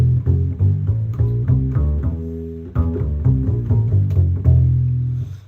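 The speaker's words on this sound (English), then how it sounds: "So that's why I'm starting with the E Locrian scale" Bowed double bass playing a slow descending-and-ascending E Locrian scale, each note sustained and distinct, low and resonant with no talking.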